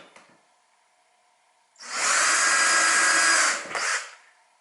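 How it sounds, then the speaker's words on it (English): A power drill drilling pilot holes for cabinet hinges whirs for about two seconds at a steady high pitch, then briefly revs again before stopping, close by. "Drill your pilot holes."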